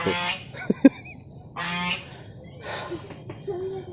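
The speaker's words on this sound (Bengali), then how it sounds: "ও এটা তো হাঁস।" Geese or ducks honk in loud, nasal bursts near a dinosaur park entrance, with several separate calls spaced across the moment and a couple of brief knocks early on.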